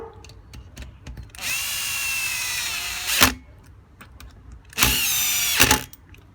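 Two loud, close bursts of a cordless power driver whirring as it tightens the carburetor screws on a whipper snipper, separated by quieter clicks and handling noise.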